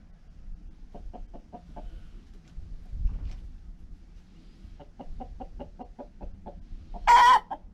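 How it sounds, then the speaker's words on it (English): A Rhode Island Red chicken clucks in repeated short bursts, two runs of rhythmic clucks separated by a pause, ending in one loud, strained squawk close by, with no talking. "What you doing all that clucking about?"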